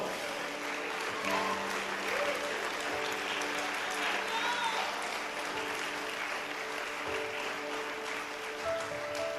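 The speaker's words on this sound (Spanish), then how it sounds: "Dale un aplauso al Señor Jesucristo." A church congregation applauds steadily and fairly loudly throughout a Spanish-language sermon, with a dense sustained clatter of many hands and voices mixed into the crowd noise.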